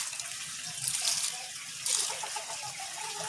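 Water runs from a tap with a steady hiss, splashing in brief louder bursts as it overflows, close by and without talking.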